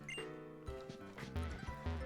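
Meowth's Pay Day attack in the Pokémon Sun and Moon video game: a quick run of bright metallic coin clinks and jingles with thumping hits, short and busy at moderate volume.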